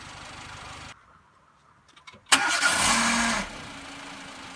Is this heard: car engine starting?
yes